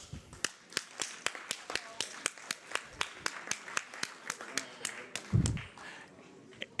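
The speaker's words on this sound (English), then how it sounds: "that was a marginally successful first clap in" A panel audience at a 2014 community news forum claps in unison, about two dozen sharp, evenly spaced claps in a steady rhythm, moderately loud with a brief voice near the end.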